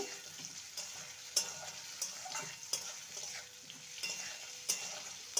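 Bitter gourd and potato being stirred in a frying pan with turmeric and salt, a steady soft sizzle broken by sharp scrapes and clicks of a utensil against the pan every second or so, with no talk.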